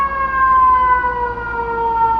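A loud ambulance siren holds a steady wailing tone that slowly drops in pitch as it passes nearby, with no talking.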